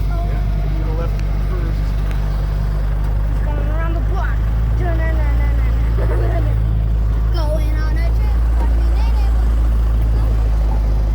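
A Jeep drives with a loud, rough engine droning steadily close up throughout, while someone talks over it.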